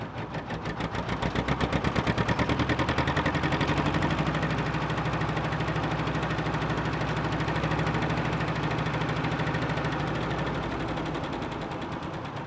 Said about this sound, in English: They can hear the engine, a real nice pop, pop, pop.